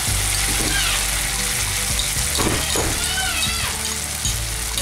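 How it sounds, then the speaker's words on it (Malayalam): Ground masala paste with ginger and garlic frying in hot oil for a Kottayam-style fish curry, a loud continuous sizzle and crackle with scraping stirs, close up. "എന്നിട്ട് ഇത് നന്നായിട്ട് മൂപ്പിക്കാം."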